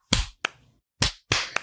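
Sharp hand claps recorded close up at the start of a podcast session, four crisp smacks in two pairs with short silences between them and no talking.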